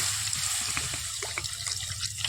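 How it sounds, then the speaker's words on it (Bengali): Water pours into a pan of soybean curry while cooking, a steady splashing, gurgling stream heard close up and alone. "এইবার জল দিয়ে দেবো"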